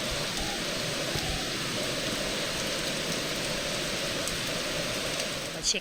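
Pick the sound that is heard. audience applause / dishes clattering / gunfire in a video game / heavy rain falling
heavy rain falling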